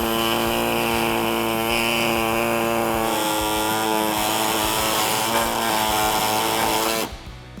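Saw trimming a plastic section for a Jeep Wrangler JL snorkel install, a loud steady buzzing motor drone with harmonic whine that runs continuously for about seven seconds, then cuts off abruptly.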